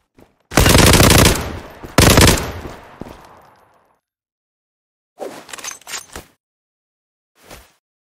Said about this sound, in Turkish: Mermi üstüne mermi atıyorum adam işlemiyor ya.